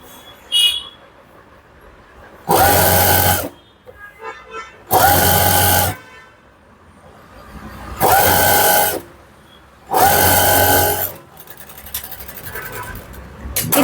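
A sewing machine stitches a Pushpak pant in four loud bursts of rapid mechanical chatter, each lasting about a second, separated by short pauses with faint handling noise.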